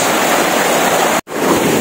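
Strong river current rushing loudly and steadily close by during a river crossing, a continuous broadband roar with a brief dropout near the end.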